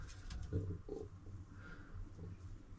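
Soft, low cooing from a pair of Qasid pigeons, male and female, in a couple of short bursts, faint against a quiet, slightly noisy background.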